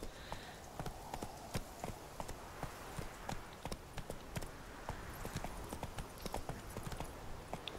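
Roach the horse gallops in The Witcher 3, a fast, steady clip-clop of hooves drumming evenly over about eight seconds at moderate volume, with no talk over it.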